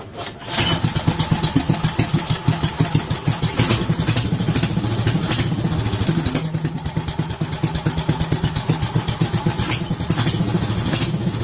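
Small engine running steadily after a new carburetor install, the idle nudged back up; a continuous, loud, rapid putter with a regular firing pulse and light mechanical clatter, no talk over it.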